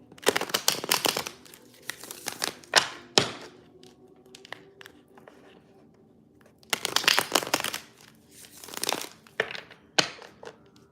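Tarot cards being shuffled by hand in several rustling, riffling bursts separated by quiet pauses, close up with occasional taps and thumps, no voices over it.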